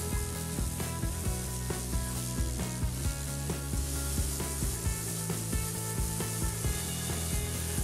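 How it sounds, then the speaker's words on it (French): A pressure washer blasting a whitish film off bricks, a loud continuous hiss with scraping, rubbing bursts as the spray moves over the brick surface. "on a encore passé un coup de nettoyage haute pression pour retirer le léger voile blanchâtre sur les briques"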